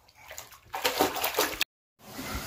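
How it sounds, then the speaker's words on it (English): Bath water sloshing and splashing in a bathtub where children play with bubbles, a short burst of close splashing that cuts out, then resumes softly. "Today we're playing bubbles at the bathtub."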